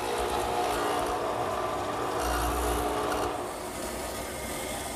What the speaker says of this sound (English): I'm just going to use the radial arm with the stacked dado head cutter